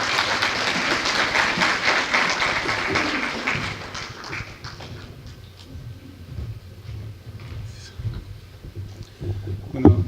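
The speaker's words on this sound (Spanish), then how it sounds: "Por favor, recibámoslo con fuertes aplausos de bienvenida." Audience applause welcoming a speaker at a transfer-pricing business conference, a loud dense burst of clapping that fades over several seconds into quieter room noise with a few scattered claps.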